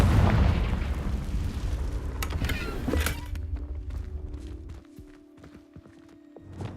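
A Confringo explosion spell in a Harry Potter video game bursts with a loud, deep boom that rumbles and fades over a few seconds, followed by quiet footsteps.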